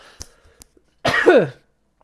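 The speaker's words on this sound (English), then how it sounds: "sorry for the cough, guys" A single close, harsh cough after a few faint clicks and small noises, then quiet.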